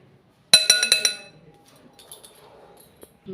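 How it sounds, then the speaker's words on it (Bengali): Raw mango pieces and green chillies being mixed in a bowl for pickle, giving a quick run of about five bright clinks of utensil against the bowl, then soft scraping and rustling that fade out. "ভালো করে মিশিয়ে নিচ্ছি আম আর কাঁচা লঙ্কাটাকে"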